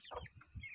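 A few short, low clucks from an Aseel hen near her chicks, close and soft, in quick uneven bursts with no voices.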